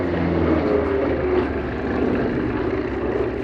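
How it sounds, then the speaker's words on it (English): A Douglas A-26C Invader landing at Duxford during an air display, its piston engines and propellers giving a steady, loud, broadband drone that holds throughout without talk. "Landing on underneath the P-47, John Dodd and John Corley in Martin Kubrak's magnificent A-26C Invader."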